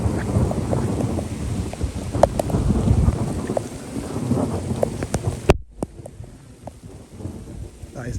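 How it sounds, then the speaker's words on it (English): A thunderstorm directly overhead, with heavy steady rain and wind and deep rolling thunder rumbling loudly throughout, plus a sharp crack near the middle before the downpour eases slightly. "I've never actually recorded a thunderstorm with me walking out in it"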